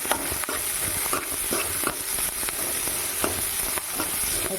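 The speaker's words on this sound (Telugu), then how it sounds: "ఒక బాండ్లీ పెట్టి అందులోకి ఒక రెండు స్పూన్ దాకా ఆయిల్ వేసి ఇందులోకి ఎర్రగడ్డలు వేసి వేయించుకుంటాము" Onions fry in about two spoons of oil in a kadai, a steady crackling sizzle up close, punctuated by frequent short clicks and scrapes of stirring.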